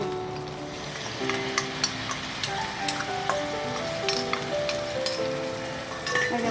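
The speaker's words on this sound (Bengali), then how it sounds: "এবারে আমি এই মশলাটা দিয়ে দিচ্ছি।" A spice mix is tipped into fried ginger paste in a hot pan while cooking a prawn dish in pumpkin leaves; a steady sizzle runs throughout, broken by metallic clinks of a spoon stirring.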